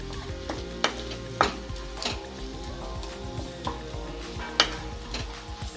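Garlic frying in oil in a pan before radish greens go in, with steady low sizzle and several sharp clinks and scrapes of a spoon stirring against the pan.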